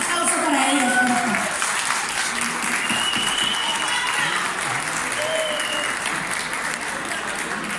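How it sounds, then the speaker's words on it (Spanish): Applause from a crowd at a wine festival, a loud burst of clapping that holds steady for several seconds, with voices speaking over it. "Un aplauso para ellos, por favor."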